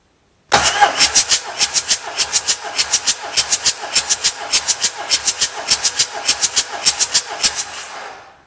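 A Volkswagen TDI diesel engine cranks on the starter during a cylinder compression test, giving a steady, loud run of rapid rhythmic pulses for about eight seconds with no firing, then stopping abruptly.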